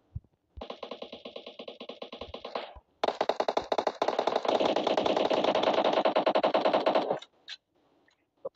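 Automatic gunfire in the battle royale shooter PUBG: a rapid burst of shots, a short pause, then a longer loud continuous stream of fire, ending with a couple of faint trailing pops.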